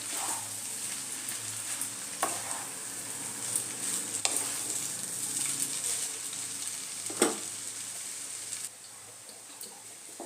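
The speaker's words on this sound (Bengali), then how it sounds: "এবার আমি মিক্স করে নেব চাউমিনটা" Soyabean chowmein with vegetables being stirred and tossed in a hot pan, a soft continuous sizzle broken by scattered scrapes and taps of a utensil, close and fairly quiet.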